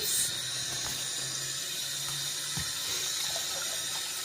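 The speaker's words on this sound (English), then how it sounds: "So just give it a quick rinse" Cold tap water running steadily into a sink while handspun yarn is rinsed, a constant close splashing hiss with a few small clunks and drips.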